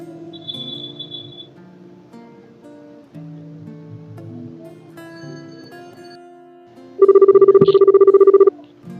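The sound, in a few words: telephone ringing with incoming call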